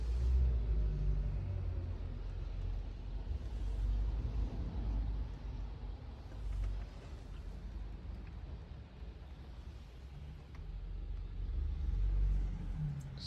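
A car rumbles along on a rainy day, its low, steady road and engine drone rising and falling gently over about thirteen seconds, with no talking.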